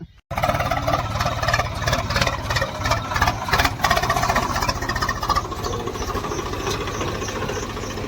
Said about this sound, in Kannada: ಸೊ ಫೈನಲಿ ಫ್ರೆಂಡ್ಸ್ ಮಿಷನ್ ಬಂದದ್ ನೋಡ್ರಿ